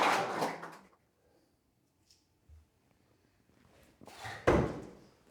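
An axe thrown in a team axe-throwing championship strikes the wooden target with a single solid thunk, preceded by a short whoosh and followed by crowd noise, all close and loud against a quiet gap.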